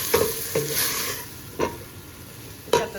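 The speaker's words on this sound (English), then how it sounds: "And I just love the smell of peppers and onions and garlic. I'm going to saute that." Peppers, onions and garlic sautéing in a pot for beef stew, a soft continuous sizzle with a few sharp spoon scrapes and knocks against the pot, close up, no talking.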